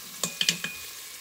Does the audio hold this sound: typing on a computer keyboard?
no